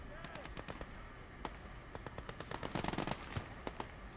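Rapid gunfire and grenade blasts in a Gates of Hell Ostfront battle in the swamps of Russia: irregular bursts of sharp cracks and pops, fairly distant and quiet, thickening into a dense flurry midway before thinning out.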